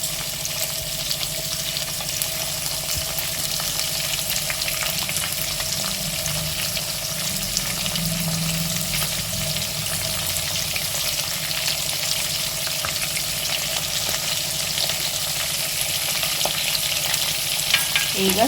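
Carrots and beans sizzling and frying in a pan for vegetable upma, a constant loud crackle with occasional stirring scrapes and no talk.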